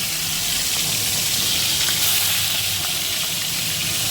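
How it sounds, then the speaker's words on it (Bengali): Steady hiss and crackle of fish frying in hot oil in a wok, continuous and close, with no talking. "এরপরে আমি মাছগুলোকে ভেজে নেব"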